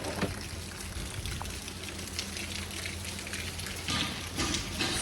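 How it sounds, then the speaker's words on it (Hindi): Light morning drizzle falls steadily outside a shop just opened for the day, a close, even patter of raindrops on surfaces with no voices. "सुबह सुबह रिमझिम बारिश की झड़ी लगा दी है।"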